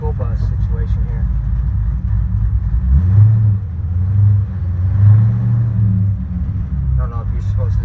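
A 1959 Chevrolet Apache pickup truck driving, its engine rumbling low and steady with a couple of swelling pulls, while someone talks over it inside the cab.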